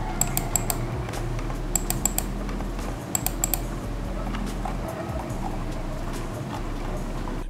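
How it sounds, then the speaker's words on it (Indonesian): An Alcatroz X-Craft Ultra 2000 Silent gaming mouse gives soft, muted button clicks in small irregular bursts over a low steady hum. "Bunyi-bunyi tombolnya kira-kira seperti ini"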